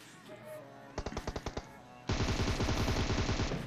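Gunfire in the mobile shooter PUBG Mobile, a quick burst of about eight separate shots followed by a loud, sustained automatic volley, close and without talk.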